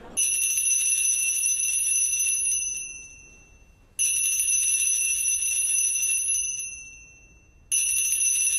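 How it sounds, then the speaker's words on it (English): Repeated bell ringing in three long, bright, sustained bursts, each fading slowly before the next strikes, loud and close with no talk over it. "Ding dong, ding dong."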